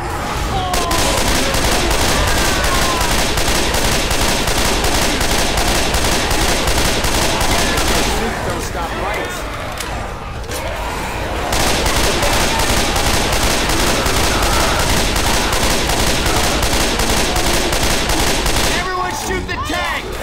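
Dense, loud gunfire aimed at a Tank in the zombie shooter Left 4 Dead 2, rapid continuous volleys with a brief lull midway before shooting resumes, chaotic and close.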